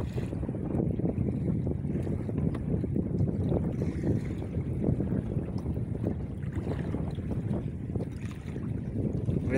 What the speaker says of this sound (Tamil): காற்று இப்போ தான் பயங்கரமான காற்றாக கிடக்கு.